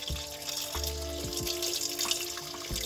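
Distilled water pouring steadily into a beaker, a continuous trickling and splashing close by, with a few small bumps and knocks.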